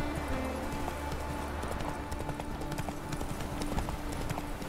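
Roach the horse gallops in The Witcher 3, a steady stream of hoofbeats drumming close and loud over a constant game background.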